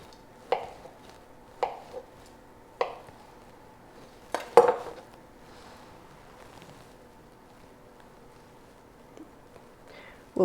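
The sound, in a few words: slicing avocado into thin slices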